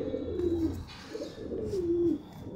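An old Madrasi pigeon coos twice nearby, two drawn-out rolling calls close to the listener over faint background noise.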